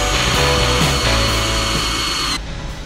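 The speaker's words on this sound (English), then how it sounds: "So I'm gonna mark it, and then drill it." A power drill whines loudly and continuously at close range, boring holes in a boat, its motor pitch shifting slightly as it bores, then cutting off near the end.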